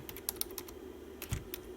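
Keys clack on a computer keyboard in a short burst of scattered, uneven taps at close range over a steady low electrical hum, with no voices.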